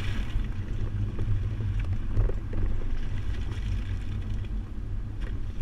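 A 2018 Mitsubishi Outlander Sport carrying a Kuat NV 2.0 two-bike rack drives a slalom course, giving a steady low road and engine rumble with wind noise and faint rattles throughout, no talking.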